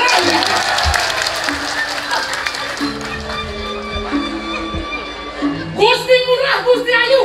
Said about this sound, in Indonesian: Tepuk tangan berbanyak-banyak.